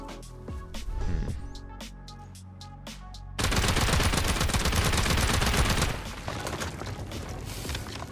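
Rapid bursts of explosive-round gunfire in the survival game Rust, a few scattered shots first, then a loud, dense sustained volley for several seconds that thins slightly toward the end.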